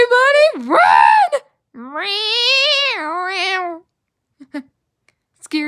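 A human voice imitates a cat screeching with two loud, drawn-out, wavering yowls close up, the second longer, followed by faint brief noises.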